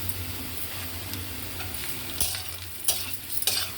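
Onions and carrots fry with salt, garam masala, turmeric and chilli powder, a moderate steady sizzle close by, punctuated near the end by a few sharp stirring scrapes.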